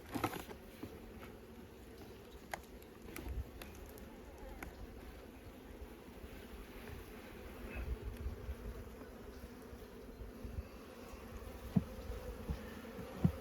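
A low, continuous hum of honey bees at a hive at close range, with occasional soft ticks and rustles scattered through it.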